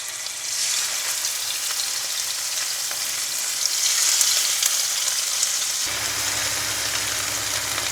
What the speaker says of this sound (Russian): Видите, вот так вот обжариваем говядину с одной стороны, со второй.